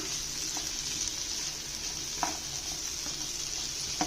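Steady oil sizzle from a pan, with a few soft clicks and scrapes of stirring scattered through it.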